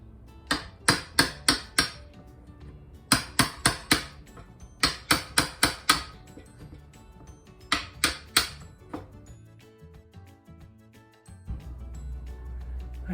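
A hammer drives a chisel to cut out a recess in a door. Sharp taps come in quick clusters of four or five, separated by short pauses, and the work ends with quieter shuffling.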